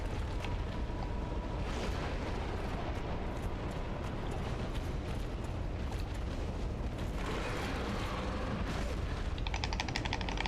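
A character burns in lava in the Dark Souls video game, heard as a dense, continuous rumbling roar with crackling bursts and scattered thuds throughout, ending in a faint rapid clicking.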